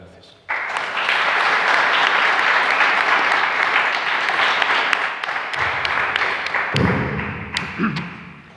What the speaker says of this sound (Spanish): les pido un aplauso para nuestro conferenciante